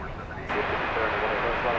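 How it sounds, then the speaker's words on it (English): A jet airplane on its takeoff roll down the runway at DFW Airport, a steady broadband engine roar that swells abruptly partway through and then holds loud and continuous. "Plane's using up all the runway."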